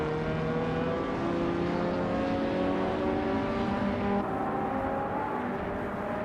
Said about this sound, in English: Maya is driving a 1986 BMW M3E30